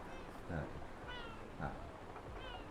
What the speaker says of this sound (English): My kitty.